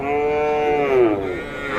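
Cattle at the traditional Ranibazar livestock market in Ghoraghat, Dinajpur, where young bulls and heifer calves are sold: one long, loud, close moo that slides downward and fades, with crowd murmur behind it.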